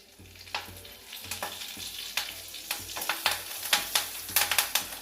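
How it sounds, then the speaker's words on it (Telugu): Curry leaves crackle and fry in hot oil with cumin and mustard seeds for sago upma, a steady close sizzle broken by sharp pops and spatters that grow busier toward the end, with no voices. "కొంచెం వేగాలండి. కరివేపాకు వేస్తాను."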